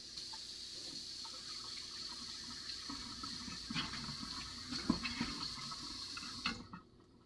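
Tap water runs steadily as something is rinsed in a kitchen sink, a constant close hiss with small splashes and clatters before the flow cuts off near the end.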